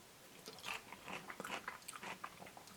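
Biting into a KFC Korean burger with pickle, soft crunchy bites and chewing close to the mic, quiet and irregular, with no talking.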